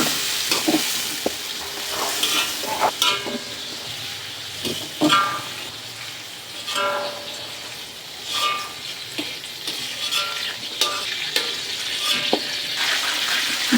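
Garlic paste going into a hot frying pan: a continuous sizzle with intermittent clicks and scrapes of stirring, loud and near, without any speech.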